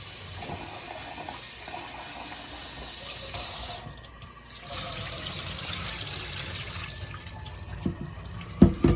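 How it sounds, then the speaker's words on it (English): Rice being rinsed under a running kitchen tap, with a steady close wash of water into a sink and a few louder splashes and clinks near the end. "it's good for you to wash your rice till the water comes clean"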